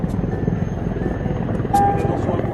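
UN peacekeeping helicopter in a military mission setting, a continuous loud rotor and engine drone close by, steady through the brief moment, with a voice faintly present under it.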